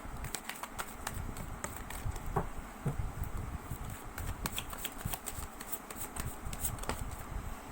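Tarot cards shuffled continuously by hand during a card reading, a steady dense riffle of soft flicks and taps, close and fairly quiet with no talk over it.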